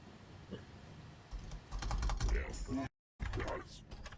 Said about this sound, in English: It's very healthy for the keyboards to get this kind of treatment from KOTOR.